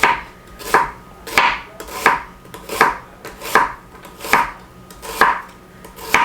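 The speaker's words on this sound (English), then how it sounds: "To make that easier on myself, I just cut them in half and then slice them that way." Knife slicing halved tomatoes thin on a cutting board, about nine crisp, evenly spaced cuts each ending in a firm tap on the board, close and clear with no talk.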